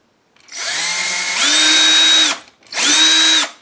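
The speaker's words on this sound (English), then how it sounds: "drill a hole" A power drill bores a hole for a found-object assemblage: a loud motor whir spins up, then rises to a higher pitch for about two seconds, stops briefly, and runs again in a second shorter burst, with no talking.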